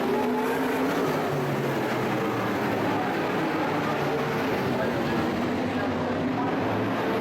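Modified race cars roar around the North State Modified Series track in Madera, California, a steady, dense engine drone filling the whole stretch with no clear pauses, mid-distance and continuous.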